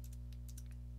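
Keys clicking in a short irregular burst as a value is typed on a computer keyboard, quiet and close over a steady electrical hum.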